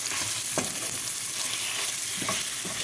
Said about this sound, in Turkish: Şöyle yarım yemek kaşığı da biber salçası ekleyip karıştırıyorum